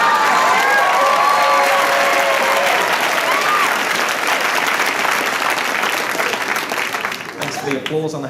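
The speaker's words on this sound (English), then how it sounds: "The applause on the helicopter there." Loud, dense audience applause mixed with cheering at a stand-up comedy show, roaring steadily before thinning toward the end as a voice begins over the dwindling clapping.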